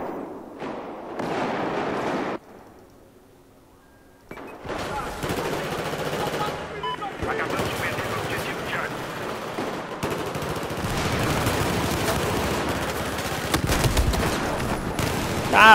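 Rapid bursts of automatic gunfire and single shots from Battlefield 4 multiplayer combat crackle loudly and near, broken by a short quieter gap before dense firing resumes and continues to the end.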